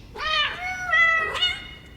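Pet cat giving a loud, close, drawn-out meow followed by a second shorter meow, clear over a quiet room with no talking.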